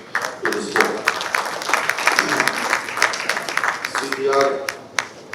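Scattered crowd applause at a national car racing championship event, with uneven claps and rising and falling bursts while voices talk over it throughout.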